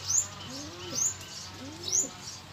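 Racing pigeons at a loft cooing in soft, repeated low calls, about three rolling coos close by, with brief higher chirps between them.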